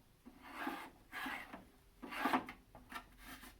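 A pin on a 3D-printed R2D2 part rasps as it rubs inside its tight hole, five or six scratchy grinding strokes close by, each about half a second long.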